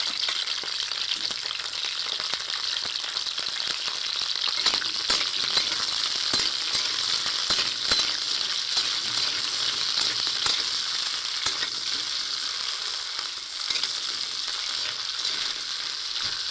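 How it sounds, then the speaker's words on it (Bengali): Cauliflower florets frying in hot oil in a pan for a Bengali dalna, giving a steady, close, crackling sizzle with scattered pops and stirring clinks throughout, no talking. "এবার আমি ফুলকপিগুলো দিয়ে দিচ্ছি। হালকা করে কিন্তু ফুলকপিগুলো আমি ভাজা করে নেব।"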